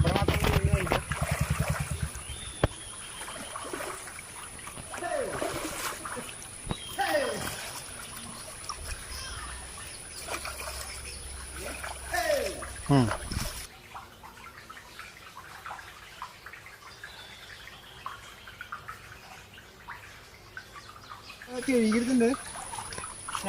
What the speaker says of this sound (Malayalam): അങ്ങനെ നമുക്ക് നല്ലൊരു വെള്ളത്തിൽ കഴുകണം